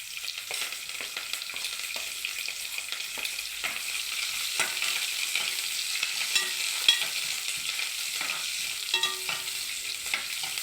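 Curry leaves, green and dried chillies and sliced onions fry in a pan, a steady broadband sizzle with scattered stirring scrapes and clicks throughout, moderately close and without talk.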